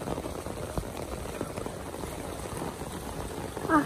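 Steady outdoor rainfall on a Nepali hillside path, a continuous even hiss of drops with occasional heavier patters, fairly close and uniform throughout.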